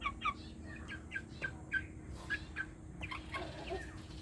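Polaco chickens, including a featherless naked hen, cluck in a repeated, choppy series of short calls close by, over a steady low farmyard hum.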